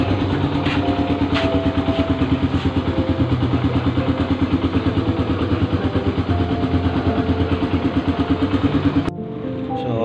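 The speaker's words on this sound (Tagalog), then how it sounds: "pinapainit ko na yung motor sa labas" A Raider 150 motorcycle idles outdoors as it warms up, its engine putting out a steady, loud, rapid pulsing throb that holds for about nine seconds before cutting out abruptly near the end.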